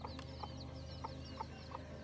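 Chicks in a pen give faint, quiet clucks and peeps, several short calls spaced irregularly over a low background hum.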